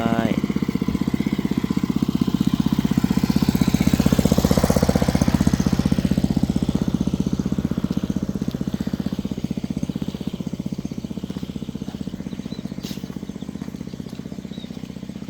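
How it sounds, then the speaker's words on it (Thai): An engine-driven water pump pushing water onto bamboo shoots drones steadily and loudly at close range, a rough low rumble that swells slightly and then eases over fifteen seconds. "สูบน้ำใส่หน่อไม้ สูบน้ำใส่หน่อไม้"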